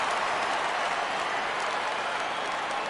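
A virtual baseball crowd in MLB The Show 17 cheers and claps in a dense, steady wash of noise at a full-count pitch, loud and unbroken throughout.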